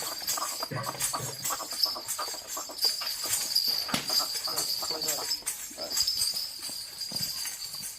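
Horse hooves step and shuffle on a woven charpai bed, giving irregular knocks and thuds under steady outdoor noise, with people talking throughout.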